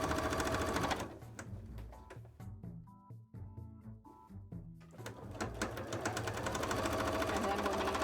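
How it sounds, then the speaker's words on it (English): A sewing machine stitches a cosplay headpiece in rapid bursts, running steadily, pausing briefly in the middle, then picking up again, close and fairly quiet. "I am going to sew the front together"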